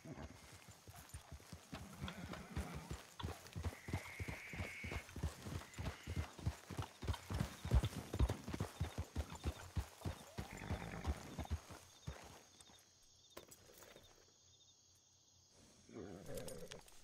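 Horse hooves clip-clop in the RedM game, Red Dead-style role-play set around 1920 Blackwater, as a steady rhythmic trot that runs for about twelve seconds and then fades to quiet, with faint crickets and some voices around it.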